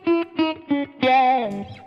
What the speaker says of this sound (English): it's an envelope filter. It's got like an auto wah kind of sound.